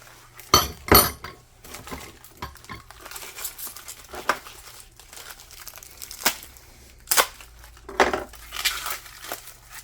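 Chrome vanadium socket extensions come out of packaging during an impact wrench unboxing, with bright metallic clinks and clanks scattered irregularly among crinkling and rustling of wrapping, close and loud.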